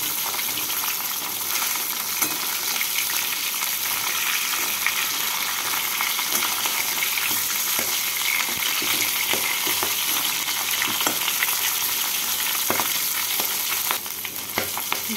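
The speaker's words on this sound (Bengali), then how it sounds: "মাথাগুলোকে উল্টে পাল্টে লাল করে ভেজে নেব।" Fish heads turned and frying in oil for a head and potato curry, a continuous loud close sizzle with occasional scraping clinks of the turning utensil, easing slightly near the end.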